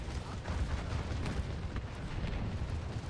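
Gunfire in a video game: a dense, continuous rumbling barrage of booms and shots, loud and unbroken across the three seconds, with no speech over it.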